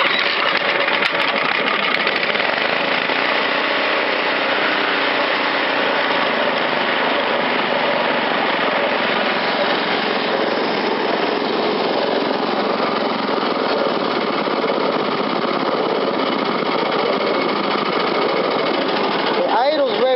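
A newer snow blower engine, started with a pull cord, runs at its lowest speed setting. It makes a loud, steady, buzzing drone close by, holding an even idle for the whole stretch.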